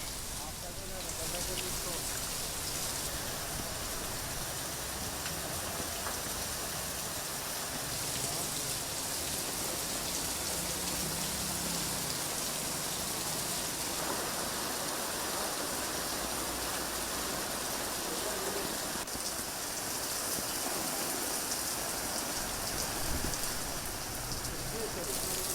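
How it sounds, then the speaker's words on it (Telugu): Torrential rain pours across Hyderabad city streets, a dense steady hiss of heavy downpour with no break for the whole stretch, loud and close, with faint traces of a voice buried underneath. "కుండపోత వర్షం కురుస్తోంది."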